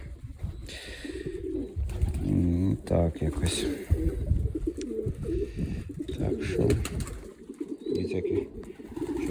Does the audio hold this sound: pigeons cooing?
yes